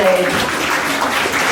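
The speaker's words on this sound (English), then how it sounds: "Everyone, please give a huge round of applause for Mary." An audience at a live stage show applauds a volunteer named Mary, a brief burst of dense clapping, with a voice speaking over the start.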